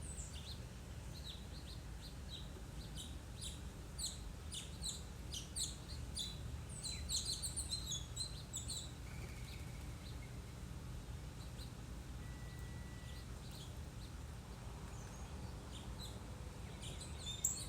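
Small birds chirping in a Florida garden in early summer, including tufted titmice and cardinals, with scattered short high tweets and calls over a low steady background hum, fairly faint and distant.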